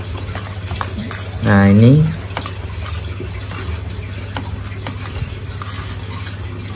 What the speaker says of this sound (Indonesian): hati-hati ya ngaduknya ya, karena ini harus merata.